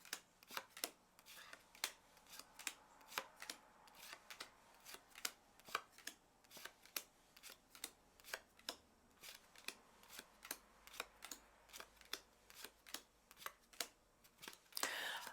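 Oracle cards from a Beloved Dead deck are laid down one on top of another in a steady run of soft, crisp slaps and shuffles, close and quiet with no talking.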